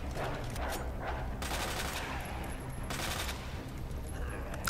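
Rapid bursts of automatic gunfire from the video game Resident Evil 2, two dense volleys of shots with loud, sustained crackle and no talking over them.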